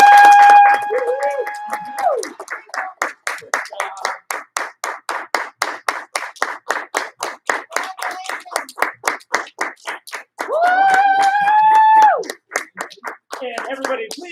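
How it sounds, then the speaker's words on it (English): Group clapping in rhythmic unison for a student earning his martial arts white belt, a fast, even series of sharp claps between sustained whistle-like tones at the start and near the end. "let's give him a huge round of applause"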